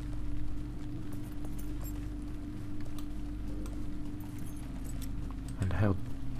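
Horse hooves clip-clop at a steady trot in The Lord of the Rings Online, a rhythmic patter over a low droning game soundtrack, with a brief bright jingle near the end.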